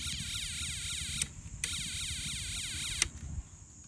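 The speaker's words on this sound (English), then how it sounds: "the siren gets a little bit louder and clearer." An electronic siren from a Snap Circuits kit wailing in fast repeated sweeps, loud and close, with a low pulsing tone underneath and a few sharp clicks as it cuts in and out.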